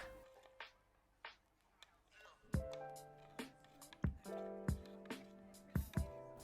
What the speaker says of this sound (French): on prend nos cubes de levure fraîche, on les met dans l'eau. Hop. Et on va venir les diluer à l'aide d'une cuillère.